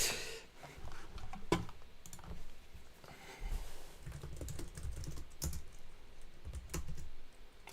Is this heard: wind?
no